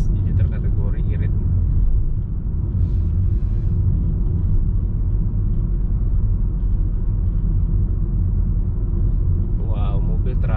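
A Honda Jazz GK5, Australian version, is driven on the road. A steady low engine and road rumble runs throughout, with brief bits of a person talking over it.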